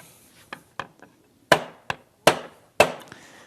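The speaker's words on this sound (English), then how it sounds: "we're going to tap that one back" A hammer taps at the valve keepers of a small engine during an overhaul, with about seven sharp metallic knocks in an uneven rhythm, the later blows louder, close and with no voices.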